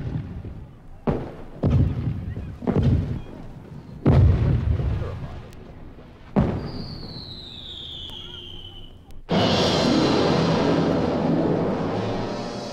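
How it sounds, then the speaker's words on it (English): Congreve rockets fired at the French fleet at anchor in a harbour boom out as a series of heavy blasts, followed by a rising whistle and a final sustained roaring rush of noise. "Captain, the rockets are ready. They may commence firing now."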